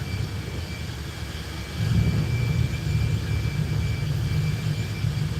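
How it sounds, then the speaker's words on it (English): Engines roar in the background of a repair shop working on a Mazda B2300, a steady low rumble that swells louder after a couple of seconds and holds, with a vacuum running nearby. "I don't know if you guys can hear engines roaring,"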